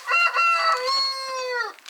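A large hen gives one drawn-out, wavering crow-like call with a strong harmonic tone, loud and close, trailing off at the end with no talk over it.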